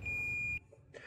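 A digital multimeter on continuity test, probes touching metal during a car stereo installation, gives one clear steady electronic beep lasting about half a second, followed by quiet background.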